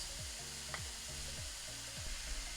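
Peppers, tomatoes and shallot simmer in olive oil in a pan with a soft, steady sizzle and faint crackles close by, with no talking and a quiet melodic tone drifting underneath.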